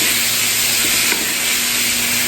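Ground beef browning in a pan gives a steady, close sizzle and hiss with faint stirring scrapes, continuous and fairly loud with no voices.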